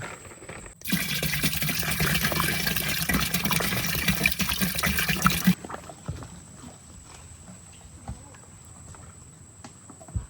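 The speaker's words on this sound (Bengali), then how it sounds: "একটু তেলটা ঢেলে দিচ্ছি।" Cooking oil is poured out in a steady, loud gushing stream lasting about five seconds, then gives way to quieter background noise with faint clatter.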